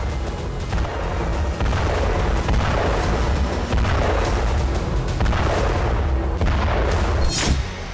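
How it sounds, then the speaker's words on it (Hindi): Howitzer artillery fire from Russian forces shelling Ukrainian positions near Odesa: a loud, sustained roar of heavy booms and blasts that rise in repeated waves over eight seconds, with no talk. "ओडेसा में रूसी फौज ने यूक्रेनी पोजीशन पर हॉवित्जर तोप से धावा बोला।"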